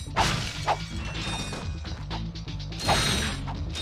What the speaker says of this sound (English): Try to throw my wrench there